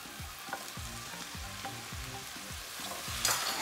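Fried cauliflower florets are tossed in sauce in a pan, a steady sizzle under a regular run of low knocking stirs, close and moderately loud.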